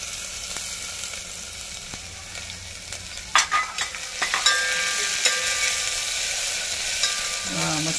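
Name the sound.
crushed chillies sizzling as added to hot oil for kadhi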